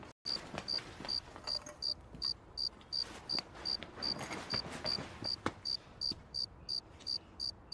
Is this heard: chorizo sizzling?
no